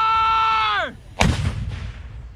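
A 120mm towed mortar fires during a National Guard training exercise: a loud descending whistle-like tone, then a heavy sharp boom with a rolling echo decaying outdoors.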